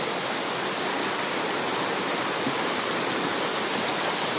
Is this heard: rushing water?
yes